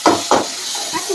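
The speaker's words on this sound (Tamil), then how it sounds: "மீன் வறுவலுக்கு பூண்டை போட்டாச்சு." Garlic sizzling in a hot pan as it goes in for a fish fry, with two quick loud bursts of frying hiss settling into a steady softer sizzle, close up.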